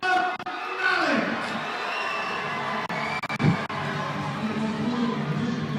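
A crowd cheers and shouts at a youth boxing event as an 11-year-old boxer walks to the ring, the noise swelling and steady under a loud announcer's voice.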